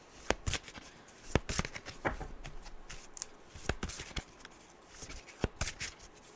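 A tarot deck being shuffled by hand, a quick run of crisp riffling flutters and sharp card slaps repeating close up, with faint talk in the background.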